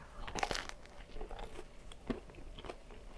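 Someone bites into a crispy baguette sandwich with a crackly crust, giving sharp close crunches followed by quieter chewing and crinkling, soft overall with no talking.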